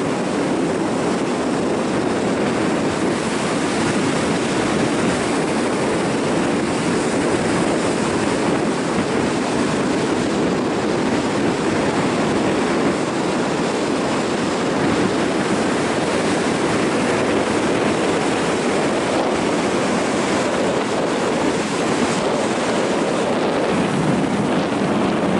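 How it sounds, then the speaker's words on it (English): Sea waves dash against rock and surge into a cave on the Ratnagiri coast, churning muddy brown froth; a continuous loud roar of surf and rushing water with wind buffeting, steady throughout with no speech. "you can see the waves dashing against the rock and entering inside the"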